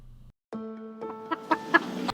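A chicken clucks in a short run of close, distinct calls that grow busier toward the end, with no voices.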